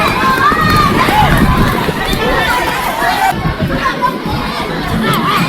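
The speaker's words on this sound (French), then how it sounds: "L'école bruisse déjà de rire et de cris." A schoolyard crowd of children at a school complex in Lomé, Togo, early morning: dense overlapping shouts, laughter and chatter with running footsteps, loud and continuous throughout.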